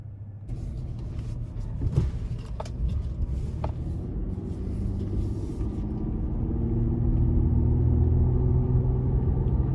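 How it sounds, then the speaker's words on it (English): A 2021 Chevy Colorado LT Redline with the 3.6 engine pulls away on a road test drive, its low engine rumble rising steadily as it gains speed, with some clicks early on. "next we're gonna take this Colorado out on the road for a test drive."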